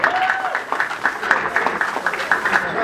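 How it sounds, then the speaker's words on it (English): Audience applause at an Eritrean American career fair in Washington DC, a steady patter of many hands clapping throughout, fairly close, with a voice speaking briefly over it. "Give yourselves a round of applause."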